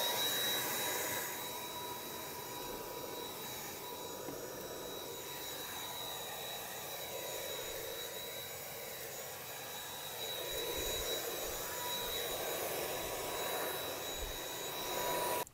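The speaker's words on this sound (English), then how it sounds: "You just vacuum them up." A vacuum cleaner running steadily in a garden setting while sucking up small flies from indoor plants, a continuous whining motor drone with a high tone, fairly constant throughout and fading slightly near the end.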